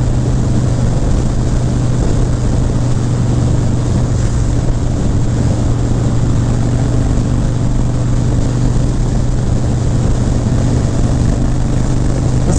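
A Harley-Davidson Breakout motorcycle cruising at highway speed of about 80 to 90 mph, heard as a steady, loud, continuous engine drone mixed with heavy wind roar throughout, no talking.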